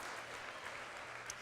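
Audience applause at a video game launch event, a brief, fairly quiet and even patter of many hands clapping without any voices over it.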